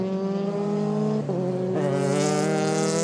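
A Euroformula Open race car at Paul Ricard circuit howls past close by, its high engine note dropping through a gear change before climbing again with a brief squeal.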